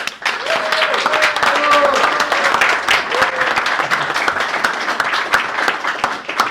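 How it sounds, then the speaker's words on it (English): Applause from the audience at an organisation's annual general meeting, a dense continuous patter of many hands lasting several seconds, with some tonal whoops or voices briefly mixed in near the start. "Have to be thanked with a big round of applause."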